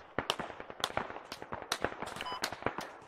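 A crackling exchange of gunshots in the game Squad, with a steady, irregular stream of sharp reports at moderate distance and no talking.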